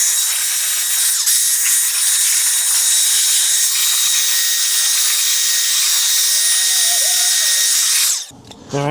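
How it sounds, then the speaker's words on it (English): A leaf blower roars steadily and loudly for several seconds, clearing debris from the engine bay of a 2001-2006 Toyota Camry, then cuts off abruptly. "I'm gonna blow the rest out with a leaf blower."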